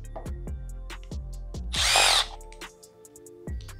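A power tool spins out cover screws on a Honda 250R, with quick repeated close whirring bursts and one louder, longer drive in the middle, alone and without talk.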